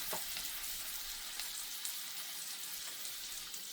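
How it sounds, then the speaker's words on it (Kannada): Sweet corn frying in butter with added spices, a continuous bright close sizzle with faint occasional stirring taps and no talking. "ಸ್ವಲ್ಪ ಫ್ರೈ ಆಗಲಿ, ಬಿಸಿ ಆಗಲಿ ಫುಲ್ಲು ಜೋಳ."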